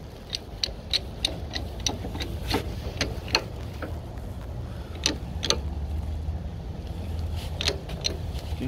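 A hand-pumped press pushes out a front wheel bearing on a 2005 Scion xB, producing a series of irregular close metallic clicks and ticks over a low, steady background rumble.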